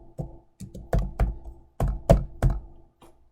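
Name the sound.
typing ipconfig on a computer keyboard in PowerShell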